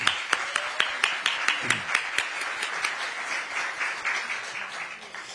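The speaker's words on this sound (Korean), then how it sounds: "두 분께 박수 한번 크게 부탁드립니다" An audience at a Democratic Party launch ceremony claps in a steady, rhythmic unison beat of sharp, close claps that loosens into scattered applause and gradually fades.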